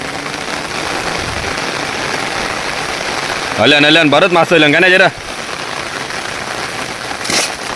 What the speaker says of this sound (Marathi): पाऊस भरपूर पाडते